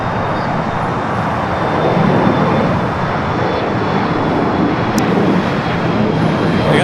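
A Boeing 787 Dreamliner's jet engines roar steadily at Los Angeles International Airport, a loud, broad, continuous rush of engine noise with no pauses.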